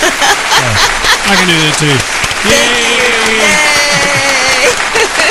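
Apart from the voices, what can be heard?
audience applause for a podcast guest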